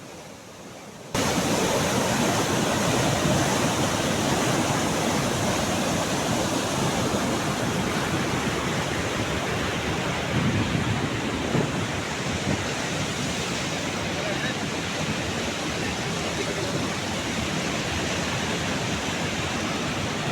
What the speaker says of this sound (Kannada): ನೀರು ಎಷ್ಟು ವೇಗವಾಗಿ ಮತ್ತು ಎಷ್ಟೊಂದು ರಭಸವಾಗಿ ಚಿಮ್ಮುತ್ತಾ ಹರಿಯುತ್ತಿದೆ